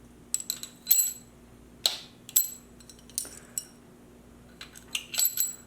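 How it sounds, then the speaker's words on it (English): Metal clicks and clinks as a lifter is pushed down onto a cam lobe during a Hemi V8 engine build, a series of short, close, sharp taps with brief pauses between them and no talk. "What that sound is me actually pushing the lifter down onto the cam lobe."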